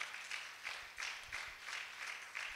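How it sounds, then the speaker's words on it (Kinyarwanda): A church congregation claps together in a steady rhythm, with about eight evenly spaced bursts of moderately loud clapping in quick succession. "Reka tuyikomera amashyi."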